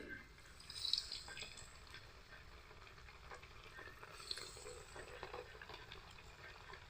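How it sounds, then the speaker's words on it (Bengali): Milk coats (doodh bhaja) frying in hot oil, a soft, steady sizzle with faint bubbling and occasional crackles, fairly quiet throughout. "এই দেখুন কত সুন্দর কিন্তু ভাজা হচ্ছে।"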